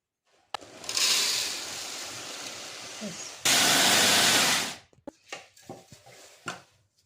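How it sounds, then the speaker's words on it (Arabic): An electric grinder whirs loudly as it grinds a chicken seasoning spice blend, running in two bursts with a brief pause between, then stopping, followed by a few light knocks and handling sounds. "تعالوا بقى عشان اطحن ده كله في الكبه بتاعتي عشان الصوت بس ما يبقاش يزعجكم"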